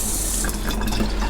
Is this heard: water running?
yes